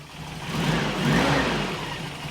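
A Toyota pickup truck engine idles rough, nearly out of gas and running on bad fuel, with a low, uneven rumble that swells and dips slightly, running on its own without any voices.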